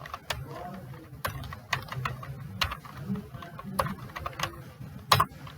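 Typing on a computer keyboard while entering commands in a terminal: a steady patter of quick, close key clicks with a few louder strikes near the end, under low background noise.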